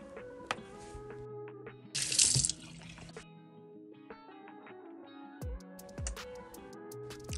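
A water tap is turned on and runs briefly, a short hissing gush added as a sound effect in a Barbie doll stop-motion scene, surrounded by light clicks and taps.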